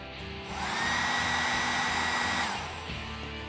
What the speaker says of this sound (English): Heat the entire mag and press firmly with your hands.